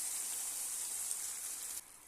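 Water poured into a pan of cooking tomatoes and peppers sets off a steady, bright hiss that holds for about two seconds and then drops off sharply.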